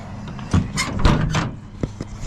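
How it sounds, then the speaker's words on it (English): The back door of an old stock car is pulled open with a close metallic clunk, a latch click and rattling, followed by a few lighter knocks. "just open up this back door"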